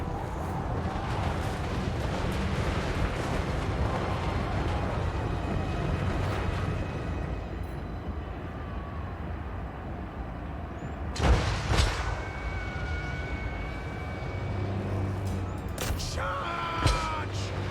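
Mortar and artillery fire rumbling across a Total War: Warhammer Immortal Empires battlefield, a steady dense roar of distant blasts with a couple of sharper, louder impacts late on, battle noise throughout.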